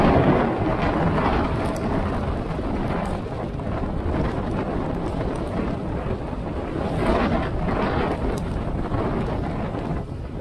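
Strong typhoon wind roars and buffets steadily for the whole stretch, a loud, constant rumbling rush with gusty swells.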